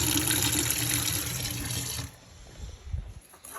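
Cold tap water gushes steadily over a stovetop moka pot for about two seconds, then cuts off, leaving a few quieter drips and splashes.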